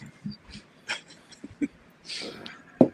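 A dog whimpering softly with short yips and breathy panting, scattered faint sounds in a quiet room.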